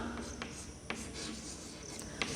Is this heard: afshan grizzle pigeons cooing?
no